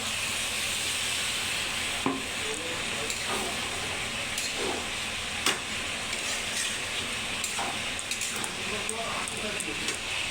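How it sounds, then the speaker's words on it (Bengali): Young jackfruit curry sizzling in a pan as a little water is added, a constant hissing fry with scattered pops and stirring clinks running underneath throughout. "আমি একটু জল দেবো, জল দিয়ে দিই অল্প স্বল্প"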